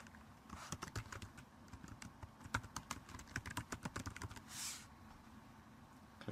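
A name being typed on a computer keyboard while burning a PowerPoint 2011 package to CD, heard as fast, irregular, close key clicks in a steady run with no talking.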